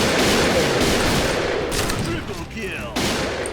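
An M200 sniper rifle fires in the online shooter Point Blank, heard as a loud, dense wash of gunfire with overlapping blasts and a brief dip in intensity near the end.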